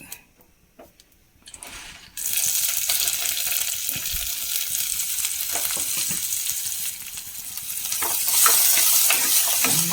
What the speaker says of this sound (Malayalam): ആ ചെമ്മീനൊന്ന് ജസ്റ്റ് ഒന്ന് ചൂടാക്കി എടുക്കാൻ വേണ്ടി മാത്രമാണ്